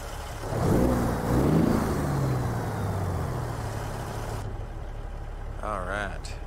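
Jon Ruda glider truck in American Truck Simulator, its engine cranking over and rumbling up, then a low, steady drone as it pulls away, with someone talking over part of it.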